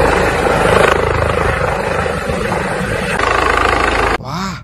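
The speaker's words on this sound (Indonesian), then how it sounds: "ternyata di sini ada helikopter penyelamat" A yellow toy rescue helicopter's rotor and motor whir steadily and close up, a busy mechanical drone that cuts off abruptly near the end.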